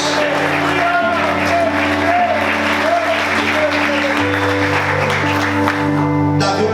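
Continuous, dense applause from a church congregation during an evening service, loud and sustained over held organ-like music chords, with voices and cheers mixed in.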